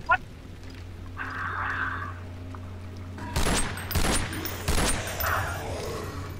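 Pistol gunshots ring out in a video game, a sharp opening shot followed by a burst of several loud close bangs in quick succession after a quieter stretch of ambient game noise.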